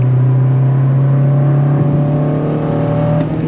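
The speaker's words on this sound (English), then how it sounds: "It's so nice to have a real K-Series engine." A Honda K-series engine in an 8th-generation Civic Si revs with a steady, loud drone and a slight rising pitch, humming continuously without a break and with no voices.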